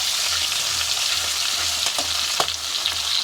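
Tangra fish frying in hot oil, a loud continuous hiss of sizzling with a few sharper pops and crackles breaking through, no voices.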